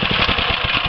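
The engine of a deep well drilling rig running, a steady pulsing close mechanical drone with an even rhythmic chug throughout this brief moment.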